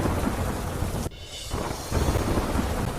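Heavy monsoon rain pours down in Bantva, Junagadh, a loud, dense and steady roar that drops away briefly for a moment and then surges back at full strength.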